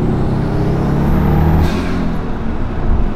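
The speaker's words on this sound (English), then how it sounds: "Maybe you guys can hear a little turbo." A turbocharged Subaru engine rumbles steadily and accelerates, with a brief high whistle of the turbo spooling partway through.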